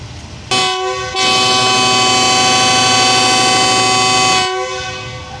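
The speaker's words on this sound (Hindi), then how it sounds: "बहुत ही पावरफुल हार्न है इसका GU40।" The powerful horn of a GU40 locomotive leading the Shah Hussain Express out of Lahore sounds one loud, sustained blast lasting about four seconds, after a short initial toot, over a rumbling station background.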